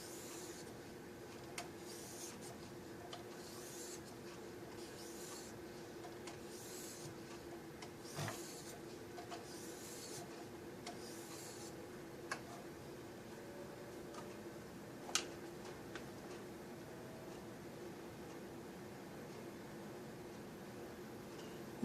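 A plane blade is sharpened with diagonal swipes on an 850-grit Wicked Edge stone, giving a faint, steady scraping rub with a few light ticks over a low background hum, and no voices.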